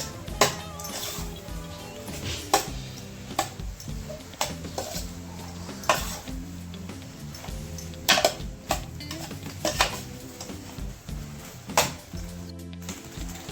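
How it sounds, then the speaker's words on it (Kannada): Pasta being stirred with masala in a pan, with repeated scraping and clinks of a utensil against the cookware at an irregular pace, close and clear, over a steady background hum with faint sizzling. "ಚೆನ್ನಾಗಿ ಮಿಕ್ಸ್ ಮಾಡಬೇಕು ಮಸಾಲೆಯೊಟ್ಟಿಗೆ."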